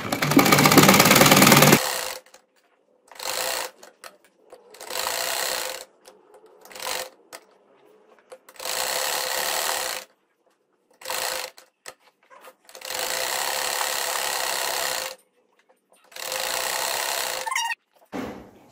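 A sewing machine runs a double line of stitching on an appliqué salwar poncha (mohri), whirring in repeated bursts of varying length separated by silent pauses, loud and close with no talk.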